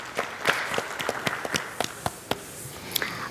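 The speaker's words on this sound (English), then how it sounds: "Let's give her a round of applause this morning." Scattered applause from an audience at a business event panel, with separate close hand claps sounding unevenly over about three seconds instead of a dense roar.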